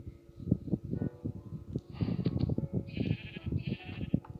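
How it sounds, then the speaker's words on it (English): Sheep in a survival video game bleat repeatedly in short overlapping calls, fairly close and clear, with no speech over them. "actually, let's kill some sheep. Not the grey sheep."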